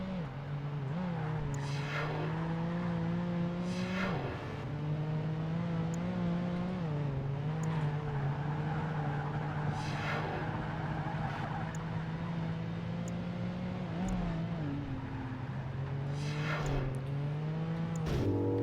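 A race car's engine in Project Gotham Racing 2, Grand Touring class, drones steadily and loudly throughout, with repeated rising rev sweeps and gear-shift dips on a small track.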